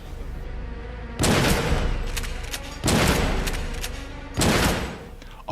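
Three loud, booming shotgun blasts from futuristic shotguns in the sci-fi horror film Jason X, evenly spaced with sustained rumbling tails between them and a short final thump.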